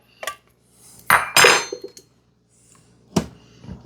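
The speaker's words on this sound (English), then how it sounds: "Give it a stir." Metal spoon clanking against a pot while pork and beans with whole tomatoes and their juice are stirred, a few separate clinks and scrapes, close and fairly quiet, with pauses between.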